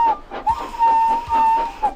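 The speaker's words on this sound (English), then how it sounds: "Suddenly, he heard an engine whistling." Steam engine whistle sounding in a railway yard, heard as repeated thin, high toots of varying length over a background of soft chuffing and clatter, fairly close, with no talk.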